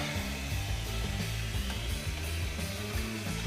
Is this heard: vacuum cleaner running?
yes